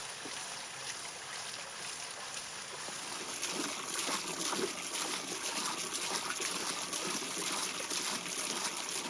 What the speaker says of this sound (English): it's time to give it a thorough wash